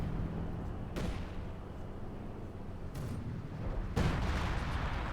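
Howitzer and mortar artillery in Company of Heroes 2: a steady rumbling battlefield bed broken by three sharp blasts, each a sudden broadband crack with a lingering low boom, the last one loudest.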